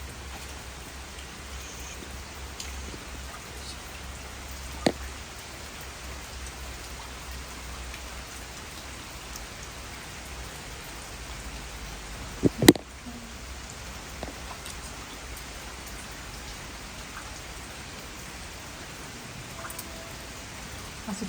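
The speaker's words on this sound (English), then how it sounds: "want to say it's raindrops" Steady rain falls on a stormy night inside an old mill, a soft continuous hiss of drops with a few sharp knocks and a brief louder clatter midway, no voices.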